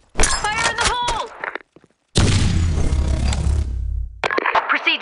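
A grenade explodes in the Blackshot shooter, a heavy booming blast with a crashing tail that follows a burst of voice chatter, then fades out as more voices return.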